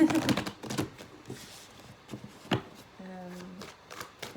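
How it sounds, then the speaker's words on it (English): Tarot cards shuffled by hand in irregular bursts of riffling and slapping, fairly close and moderate in level, with a few brief pauses and a short tonal hum near the end. "I put timestamps for this so that you can skip the shuffling."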